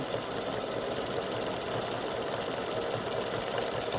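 An embroidery machine sewing a satin stitch around the lower body of a freestanding-lace snowman earring, giving a steady, fast mechanical whirring and rapid needle chatter that runs unbroken at an even level throughout.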